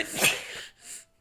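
A single short sneeze, sharp and breathy, followed by a softer exhaled hiss, close by with no talking.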